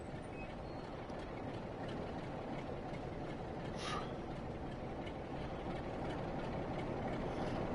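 A Freightliner train passing in the video game Train Sim World 6: a constant, low rumbling rail roar with faint clattering, steady and fairly quiet throughout, no voices.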